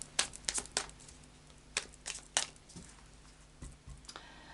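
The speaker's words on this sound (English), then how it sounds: "do a final shuffle of the Tarot of Dreams" A Tarot of Dreams card deck is shuffled close up in a quiet room, giving soft, irregular papery riffles and flicks in several bursts with short gaps between them.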